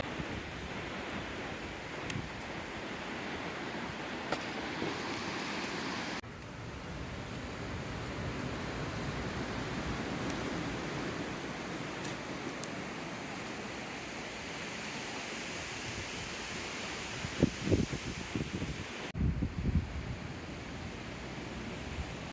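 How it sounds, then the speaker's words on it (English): Strong wind howls steadily through an outdoor garden in cold weather, a loud, continuous roar with gusty buffeting and brief rumbling bursts near the end, and no voices. "The wind is just howling right now."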